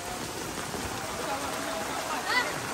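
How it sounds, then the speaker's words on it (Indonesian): Rain falling outdoors over rice paddies during a playful swim-and-rain outing, a steady broadband hiss of drops filling the whole stretch, with faint voices and a brief louder spatter near the end. "Air hujan."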